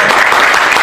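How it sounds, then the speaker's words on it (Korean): A brief, loud burst of audience applause at an indoor AfreecaTV Open Space fan event, dense clapping from a packed crowd lasting under a second. "우리 랜딩님에게 큰 박수 부탁드립니다"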